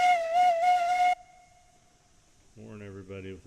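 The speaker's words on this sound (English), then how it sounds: "Warn everybody with the triple whistle." A steam locomotive whistle in a railroad simulation game sounds as a loud, sustained chime for about a second, then after a quiet pause a second, lower-pitched whistle tone begins.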